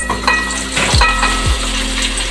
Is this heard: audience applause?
no